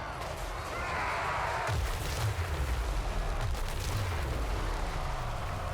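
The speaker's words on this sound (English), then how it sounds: "I'm then going to drop a Dreadquake bombardment on their little stunty head" A Dreadquake bombardment artillery strike in Total War: Warhammer 3, heard as a sustained rumbling barrage with repeated deep booms and a rolling crackle of impacts, fairly steady in loudness over several seconds.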